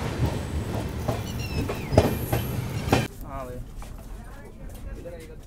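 The Kashi Vishwanath Express rumbles steadily on the move, with rhythmic clacking wheel beats and a faint high screech. The noise drops abruptly to a quieter rolling hum partway through, with muffled chatter in the carriage.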